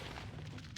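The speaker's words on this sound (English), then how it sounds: "I heard explosions." Explosions in World of Warcraft: The War Within during the Isle of Dorn Earthen Fissures campaign: a brief, loud burst of rumbling, crackling blast noise that fills the whole moment.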